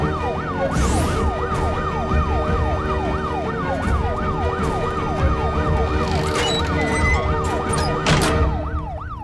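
A loud ambulance siren in a Hindi-dubbed action movie wails in steady, rapidly repeating up-and-down sweeps, close and continuous over a background of traffic rumble, with a couple of sharper hits near the end.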